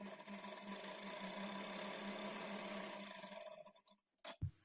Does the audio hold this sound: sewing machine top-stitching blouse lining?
yes